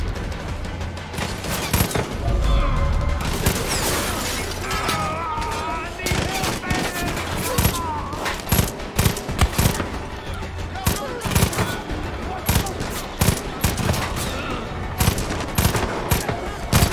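Rapid automatic gunfire in Far Cry 5 crackles in dense, repeated bursts with heavy booms, loud and near, continuing almost without pause while a voice talks underneath.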